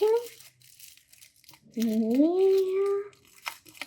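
A small plastic packet from an LOL Surprise Neon Pop Stars doll set is opened, giving short crinkling rustles at the start and end around a stretch of a person speaking.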